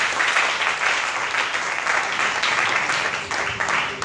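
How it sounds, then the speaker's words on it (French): Church congregation applauding loudly and steadily, a dense wash of clapping with some cheering that stays even and sustained throughout. "acclame le Seigneur très très fort"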